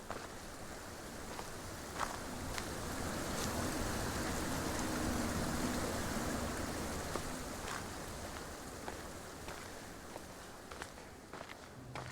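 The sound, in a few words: waterfall ambience from a video game sound design demo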